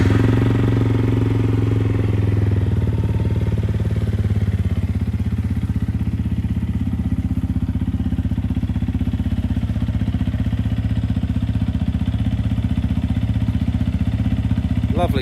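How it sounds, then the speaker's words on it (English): A used 2018 Yamaha R125 125cc sports motorcycle with just over 5,000 miles runs at a steady close idle, its low engine thrum continuous throughout with a brief steady tone early on. "Go ahead and start the bike up for you."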